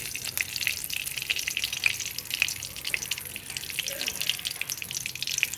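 Panch phoron and a dried chilli frying in mustard pickle oil give a bright, crackling sizzle with scattered pops, close and steady for several seconds, with no one speaking.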